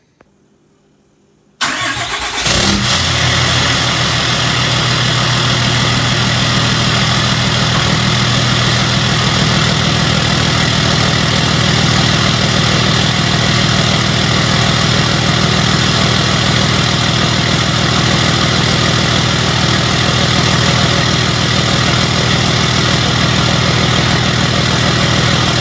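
A 2018 Ram 2500 diesel truck cranks and fires after a brief silence, then settles into a loud, steady, close idle clatter that runs unbroken for over twenty seconds.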